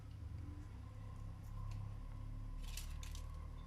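Scissors snip a few times in quick succession while a pen is being decorated in a quiet craft setting, brief crisp cuts near the end over a low background hum.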